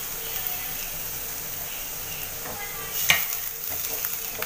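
Finely crushed garlic frying with onion and green chilies in a pan for an arbi leaf curry, a low steady sizzle with occasional stirring scrapes and one sharper utensil clink near the end.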